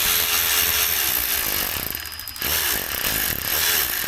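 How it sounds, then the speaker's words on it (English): Loud, continuous metallic clatter and grinding, with rapid repeated strikes of a hammer driving catless midpipes into a Dodge Challenger Hellcat exhaust, close up and without any talking. "We gotta bring out the hammer."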